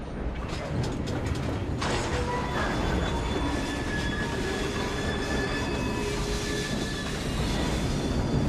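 A steam-era train runs through Victorian London in the video game Assassin's Creed Syndicate, a steady loud rumble of wheels and carriages with metallic squeals drifting over it.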